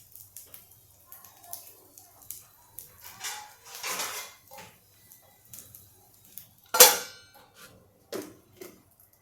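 A metal lid set onto a pan, one sharp bright clang standing out among quieter kitchen clinks and taps, close and brief.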